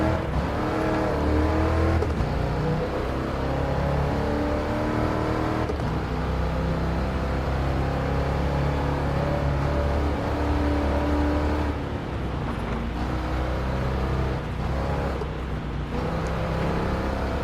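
A 1978 Pontiac Trans Am engine in Gran Turismo Sport, droning and revving continuously at close range with steady throttle and shifting pitch as it laps a race track, alone without voices.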